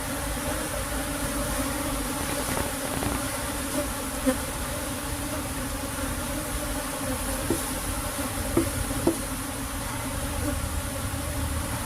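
Apis cerana honeybees buzz in a dense, continuous drone from a swarm close by, with a few faint clicks and knocks from handling the hive.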